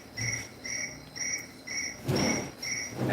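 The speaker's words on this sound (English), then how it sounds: "Cricket." A cricket chirps in a steady rhythm, seven or eight evenly spaced bright trills, close and clear, with a brief rustle near the end.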